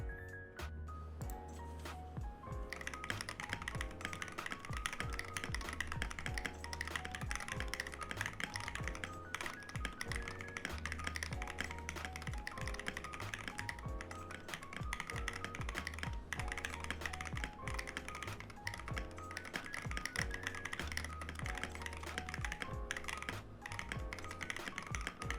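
Continuous rapid typing on a self-built computer keyboard, dense clacky keystrokes close up at a fast steady pace, with faint game sounds in the background.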